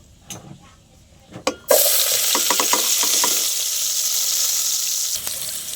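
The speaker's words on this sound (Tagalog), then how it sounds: "lutuin natin ang ating ground pork" Ground pork hits a hot pan with a sudden burst of loud sizzling that then holds as a steady, close frying hiss, after a few quieter clinks and taps; no talking.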